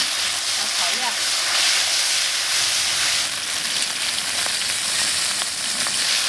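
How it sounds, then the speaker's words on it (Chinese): Scallion, ginger and chili bean paste fry in hot oil in a wok, giving a continuous bright, crackling sizzle close at hand with small pops, steady in level throughout. "这油温烧热，先下葱姜，再来一勺的豆瓣酱"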